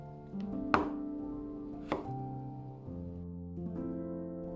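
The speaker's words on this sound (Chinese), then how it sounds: "切成约5毫米厚的薄片。" Kitchen knife slicing cucumber into thin pieces on a board, a few crisp, distinct cuts spaced about a second apart, quiet and close with no talking.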